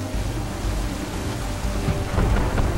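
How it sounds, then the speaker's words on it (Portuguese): Steady rain and rolling thunder from a gathering storm at sea in Assassin's Creed 3, a loud dense roar with heavier rumbles building toward the end, no voices. "Uma tempestade está chegando, capitão."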